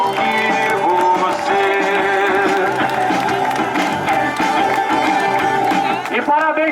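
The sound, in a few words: guests applauding the engaged couple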